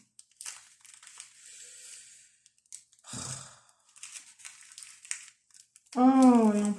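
Crinkly plastic handling of adhesive tape during an unboxing, with scattered crunching and rustles, then a short burst of voiced sound at the end.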